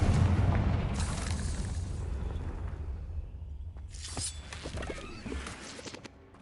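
A Confringo fire spell blast in Hogwarts Legacy, a loud booming explosion that rumbles on and fades, followed by sharper crackling bursts and impacts, with no talk.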